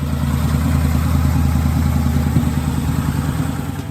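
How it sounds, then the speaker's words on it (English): Tuned 2013 Harley-Davidson Night Rod, 1250cc engine, rumbling steadily and loudly up close with a deep, even throb and no talk over it. "they get to see the tuned Harley-Davidson Night Rod on their screens"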